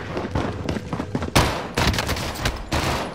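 Rapid bursts of gunfire in a multiplayer shooter video game, with dense overlapping shots and loud cracks close by, in several clustered volleys.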